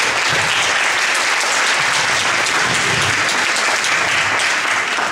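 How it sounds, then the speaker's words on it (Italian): An audience at a public talk on vaccines applauds, dense close clapping that stays loud and even for the whole stretch. "Un applauso."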